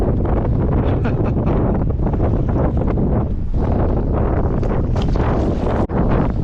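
Strong wind batters a fishing boat out on a New York City bay, a loud, constant roaring buffet across the microphone that never lets up.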